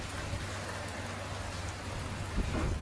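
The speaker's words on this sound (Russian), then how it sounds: "Всю ночь грохотало, блистали молнии и лил дождь, как из ведра." Heavy rain pours steadily through a night-time thunderstorm as a faint, even hiss of dense drops, with a slightly louder surge just before the end.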